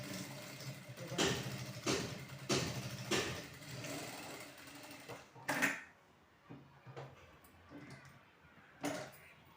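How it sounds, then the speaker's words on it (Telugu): A new Jack A2C sewing machine stitching a blouse runs in several loud mechanical bursts, the needle rattling quickly, then quieter shorter runs with pauses between them and no voices over it. "ఇంత ఈజీగా కుట్టుకోవచ్చు మిషన్ అనేది చాలా బాగుందండి"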